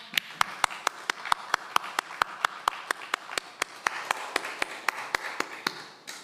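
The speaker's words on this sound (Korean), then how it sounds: "힘찬 박수로 영광 돌리겠습니다" A church congregation claps in strong, even unison, about four claps a second for several seconds, with a soft wash of voices beneath.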